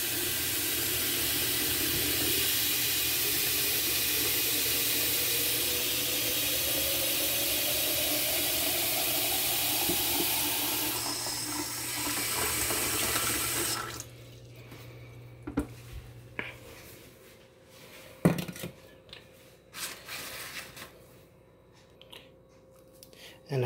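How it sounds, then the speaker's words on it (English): A long steady rushing hiss of hot water pouring into a pitcher, its pitch slowly rising as it fills, then stopping into quieter clinks and handling noises. "just fill up the pitcher with more hot water"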